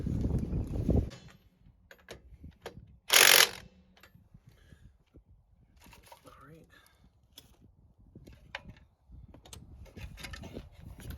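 Socket ratchet clicking while tightening a rear wheel on a 2011 Ford F250 pickup, a short burst of mechanical ratcheting amid shop noise, with brief talk around it.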